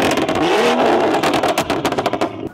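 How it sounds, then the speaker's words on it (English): A car engine revs hard and loud at a tuning shop, roaring continuously before breaking into several sharp throttle blips toward the end. "That car is very loud."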